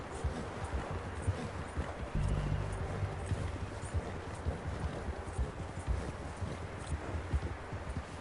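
Horse hooves clopping steadily in a Western open-world game, a continuous rhythmic trot over loose ground at moderate distance, with low rumbling ambience throughout.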